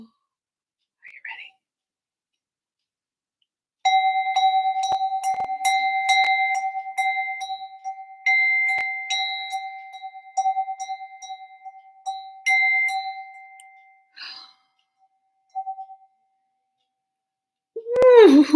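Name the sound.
bell ringing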